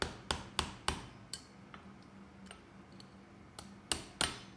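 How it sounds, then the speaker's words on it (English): Ball peen hammer striking hot steel on an anvil while forging a pointed heart shape, sharp metallic blows landing in irregular groups of one to three, close and fairly loud with quiet ringing between strikes. "And I'm using my ball peen,"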